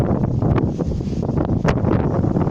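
Loud wind buffets the microphone outdoors, a continuous low roar with gusty rustling surges and no speech.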